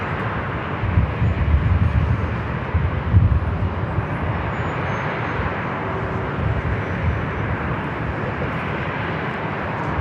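Airbus A350 rolling off the runway at San Diego airport, a steady loud broadband jet rumble and roar sustained throughout, with no clear change in level.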